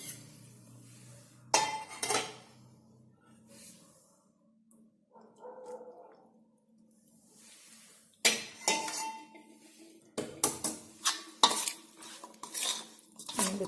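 Carrot pickle being stirred with oil in a metal pot, giving scattered scraping clinks and knocks of the spoon against the pot, some loud and close, with quieter pauses between.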